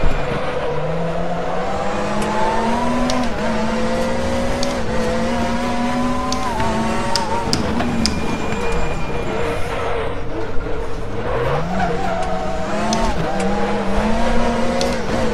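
Race car engine in the RaceRoom racing game, a WTCC touring car at Macau, revving and shifting through gears steadily throughout, with rising and falling pitch as it accelerates, loud and close.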